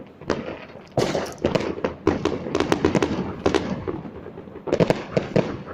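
New Year's Eve fireworks crackle and pop in dense, irregular bursts of sharp bangs and rattling, fairly close and continuous throughout.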